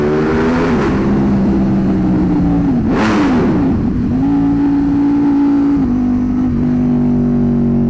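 A 2025 Ducati Panigale V4S motorcycle engine revs hard and close, its pitch climbing and dropping through several loud throttle blips over a continuous roar.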